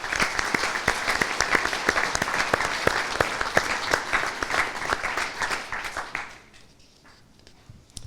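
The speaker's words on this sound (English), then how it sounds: "so please join me in a round of applause." Hall audience at a university last-lecture event claps in a fairly sparse applause with distinct individual claps, continuing for about six seconds before dying away into near silence.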